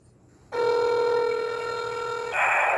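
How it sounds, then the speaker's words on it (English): Telephone ringing on an outgoing call to a police detective's line, a steady harmonic ring tone starting after a short quiet gap and holding for about two seconds before a brighter, noisier tone takes over at the end. "Just going to the voicemail, y'all."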